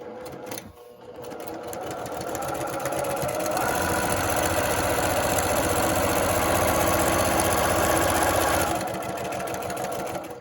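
Sewing machine backstitching a quilt, a steady fast mechanical whir and rapid needle chatter running loud and close for most of the stretch before easing off near the end.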